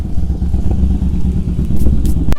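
A Honda Shadow motorcycle rides past a motorcycle workshop, its deep, rumbling engine loud and close and throbbing steadily for a couple of seconds, with a few light clatters near the end.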